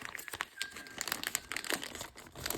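Wrapping paper being folded and taped around a gift box: close, busy crinkling and crumpling of paper with brief tape-pulling squeaks, no speech.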